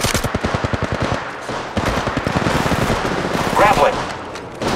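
Rapid automatic gunfire in the mobile shooter Apex Legends Mobile, a crisp evenly spaced string of close shots that blurs into a denser rattling burst, with a brief game voice line partway through.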